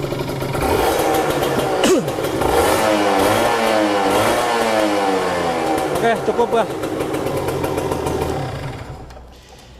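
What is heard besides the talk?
motorcycle engine revving and idling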